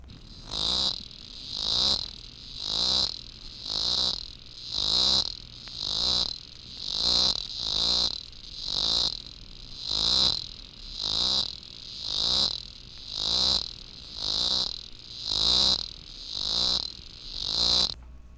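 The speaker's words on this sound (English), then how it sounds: "The song of Tibicen robinsoniana pulsates even more slowly." Tibicen robinsoniana cicada sings in a steady train of slow, evenly spaced buzzing pulses, about one per second, loud and close with nothing else over it.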